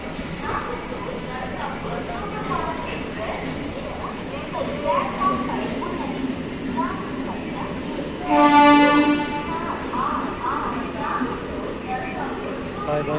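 Ratnachal SF Express with ICF coaches rolling along on the Vijayawada to Visakhapatnam line, a steady rumble heard from on board, with a brief horn blast midway and a voice speaking over the noise.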